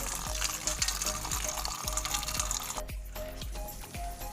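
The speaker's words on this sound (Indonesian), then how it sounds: "kita lanjut dengan tahap yang kedua, yakni dicuci dengan air yang bersih sampai bersih ya." Guava leaf shoots being rinsed in clean water: splashing and trickling water with a run of soft rhythmic knocks and clicks as the leaves are handled, fairly close and moderately quiet.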